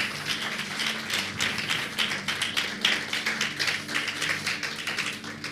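A church congregation applauding, a dense, steady wash of many hands clapping in quick rhythm, sustained and fairly loud throughout.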